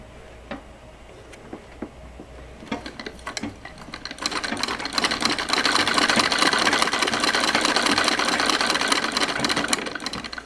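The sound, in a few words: treadle sewing machine running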